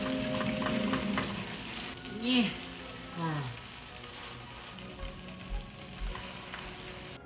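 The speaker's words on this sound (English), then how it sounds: "I'm just going to let you all listen to that sizzle in the background." Potato rostis fry in a pan with a continuous crackling sizzle, joined by a few clinks and scrapes of cookware, while a voice speaks briefly.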